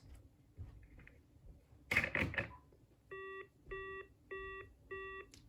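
A DECT 6.0 cordless handset set down into its charging base, heard through the answering machine: a clatter and rustle, then four evenly spaced electronic beeps, quiet and close.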